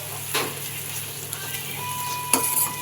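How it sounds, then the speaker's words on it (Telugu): Paneer pieces frying in a pan, a steady soft sizzle with a couple of brief stirring scrapes on top. "చూడండి ఫ్రెండ్స్, పన్నీర్ పీసెస్ ఫ్రై అవుతున్నాయి."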